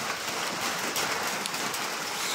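Steady hiss of rain falling outdoors, dense pattering drops all around at a moderate, even level with no voices.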